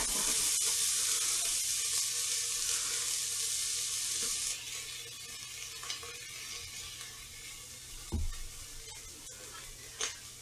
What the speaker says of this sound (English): saute one small onion